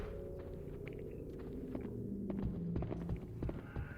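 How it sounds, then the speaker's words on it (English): Heavy, slow footsteps of the creature Debilitas in the PS2 game Haunting Ground, dull thuds repeating unevenly over a low droning ambient background, moderately close. "I heard the footsteps of Debilitas"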